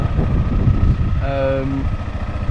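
A motocross bike engine runs on sandy training ground, a low rumbling drone close by with a brief rising rev, and a voice speaking over it.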